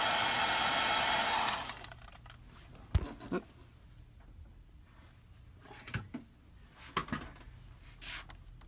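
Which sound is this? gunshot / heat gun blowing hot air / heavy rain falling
heat gun blowing hot air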